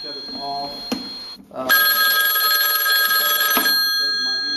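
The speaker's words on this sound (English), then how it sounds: "apologize for the phone ring. I cannot shut it off." Loud, continuous ringing from a telephone bell runs through most of the stretch during a sewer line inspection, preceded by a brief voice and a sharp click, then stops abruptly with quieter sounds after.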